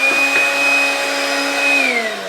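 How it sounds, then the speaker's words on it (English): A handheld Black & Decker-style dust buster vacuum runs continuously while cleaning dust and debris from a 3D printer, a loud close whine with a steady motor tone that drops slightly in pitch near the end. "And what you use it for is vacuuming your printer."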